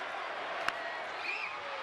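A baseball stadium crowd at an Angels–Mariners game roars in a steady, distant wash of cheering, with a single sharp crack standing out briefly amid the noise.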